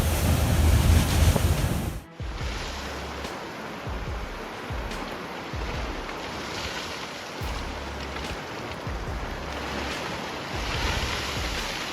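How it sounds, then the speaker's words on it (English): Huge storm waves in the North Atlantic off Scotland, a heavy roaring surge that drops after a loud opening burst into steady churning water with repeated low wind rumbles against the microphone. "looks like a tiny leaf battling the massive water mountains of the Northwest Atlantic"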